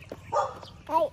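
Short, fairly close dog barks come in two bursts, each with a tonal yelping quality and a brief pause between them.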